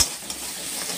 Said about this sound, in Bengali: ঝুড়ো ঝুড়ো করে আমি ভাজা ভাজা করে নিচ্ছি।